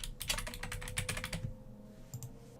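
Fingers typing on a computer keyboard produce a quick, close burst of clicking keystrokes for about a second and a half, followed by a short pause and a couple of final taps.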